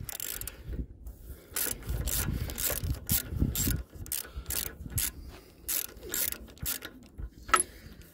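A ratchet wrench on a 13/16 socket works a spark plug loose from a Troy-Bilt rototiller, giving a series of close, quick clicking ratchet strokes in uneven bursts with short pauses.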